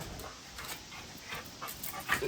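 A small dog pants in quick, breathy puffs with occasional thin whimpers, close by and fairly quiet against a faint background hiss.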